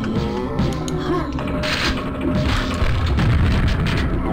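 Grenade launcher fire in Quake on map E3M2, heavy booming blasts and crashing impacts running continuously through a dense, loud game mix.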